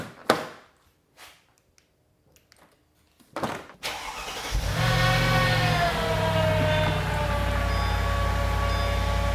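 A Mercedes SL55 AMG engine, its exhaust leak just repaired, catches after a few short starter cranks, then settles into a steady, loud, close idle that holds with a slight rise in revs.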